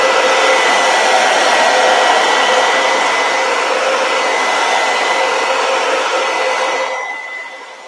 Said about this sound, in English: I'm going to use my hair dryer on cool and dry this up.